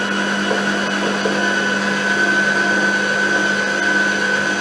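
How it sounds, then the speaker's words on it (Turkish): An electric mixer whisks eggs until pale for a Malaga cake, a loud, steady whirring motor whine that runs without pause, close by and with no speech. "Yumurtaları beyazlayana kadar çırpacağız."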